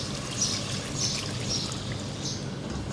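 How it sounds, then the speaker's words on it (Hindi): Water poured from a cup into a pot of mutton korma, a steady continuous splashing trickle at close range lasting the whole few seconds, with no talking over it. "1 कप पानी डालूंगी इसमें गोश्त गलाने के लिए।"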